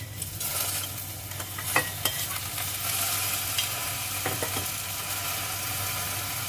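A mung bean stew with tomato and bitter gourd sizzles in a pan while a utensil stirs and scrapes through it, with a steady close frying hiss and irregular clinks, no talking.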